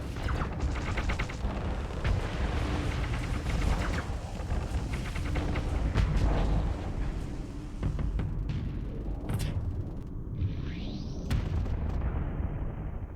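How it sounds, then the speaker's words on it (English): Laser torpedoes firing and exploding in the modded Starsector space game: a loud, continuous barrage of booming blasts and crackling impacts, with a rising whine near the end. "You, stop firing laser torpedoes at me."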